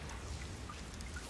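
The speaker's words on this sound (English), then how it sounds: "Welcome to the city of perpetual rain." Steady rain hiss from a video game trailer set in a rain-soaked city, a dense, even wash of falling drops with a low rumble beneath, continuous and without speech.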